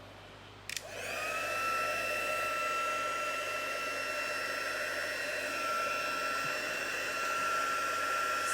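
A heat tool switches on for heat setting embossing powder and settles into a steady, close whirring hum with a high whine, running continuously with no talk.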